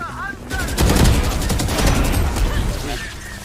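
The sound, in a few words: gunfire in the video game Valorant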